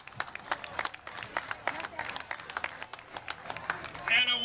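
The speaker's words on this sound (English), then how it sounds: "Let's give them a round of applause." Scattered applause from a pep rally crowd at Lincoln University's Hot Dog Palooza, given for the event sponsors: uneven individual claps under continuing voices and crowd noise.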